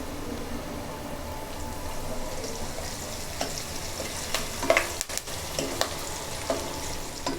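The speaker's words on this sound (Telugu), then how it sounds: "ఇప్పుడు కొంచెం కరివేపాకు వేసుకుందామండి." Onions and curry leaves fry in a pan for a Telugu brinjal and egg pulusu, a close, steady sizzle with occasional scrapes and clinks of stirring.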